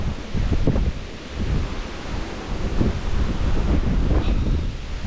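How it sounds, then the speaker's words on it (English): Wind blows steadily on an outdoor path near the Askrigg waterfalls, a loud broadband roar with gusty low buffeting on the microphone throughout and no talking. "That wind's picking up now as well."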